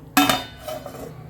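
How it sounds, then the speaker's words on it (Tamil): A metal lid clanks down onto a pot of green peas kurma with a single sharp clatter, followed by a faint ringing rattle as it settles. "இப்போ மூடி வச்சிடலாம்"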